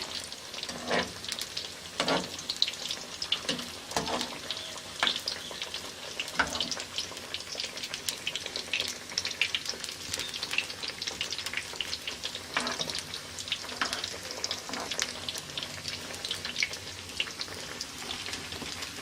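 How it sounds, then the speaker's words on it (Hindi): Khaja pastries fry in oil over medium heat, a continuous close bubbling sizzle with scattered sharper pops and crackles, no voices, running steadily throughout. "मीडियम आंच पे हम इसको फ्राई करेंगे।"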